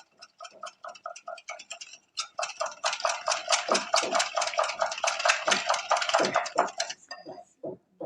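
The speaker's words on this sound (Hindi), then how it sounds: "इसको अच्छे से फेंटेंगे, इसको इतना फेंटेंगे कि इस पे झाग बन जाए" Chilled yogurt is whisked in a bowl until frothy, making a quick, regular run of light clicking taps. It starts sparse, builds into a dense steady rhythm, then slows to a few final strokes.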